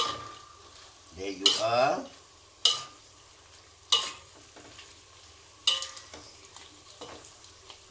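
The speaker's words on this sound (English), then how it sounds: "We mix up the chilies and the anchovies." Chilies and anchovies being stirred in a pan for Malay sambal ikan bilis, giving a sizzle with several distinct scraping stir strokes and utensil knocks spaced a second or so apart, with a short remark spoken over it.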